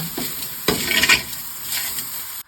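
Spice mix with salt and turmeric frying in a pan, a soft sizzle broken by a few clinks and scrapes of a utensil against the pan, fairly close and with no talking.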